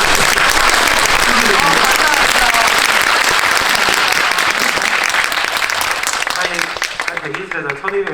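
Cinema audience at a film screening Q&A breaks into loud, sustained applause, dense clapping that fills the room and then thins toward the end, with voices faintly underneath.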